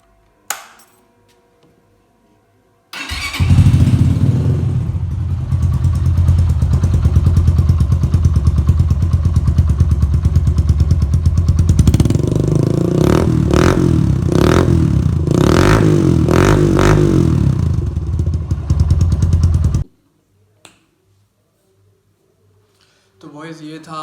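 A Yamaha YBR 125 motorcycle with a modified exhaust, engine idling loud and close with a throaty burble, then revving harder for several seconds before cutting off abruptly, followed by near silence.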